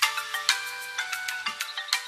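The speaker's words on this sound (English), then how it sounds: "That's my ringtone!" A bright electronic ringtone plays a repeating melodic pattern of short tones, steady and close, with no voices.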